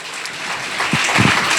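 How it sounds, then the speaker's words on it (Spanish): Congregation at an evangelical church service in Catacamas, Olancho, claps for the Lord, a bright rolling patter of hands growing slightly louder, with a few low thumps toward the end. "Denle un aplauso al Señor si está con nosotros acá."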